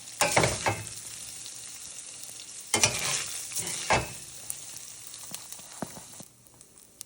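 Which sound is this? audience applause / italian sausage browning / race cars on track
italian sausage browning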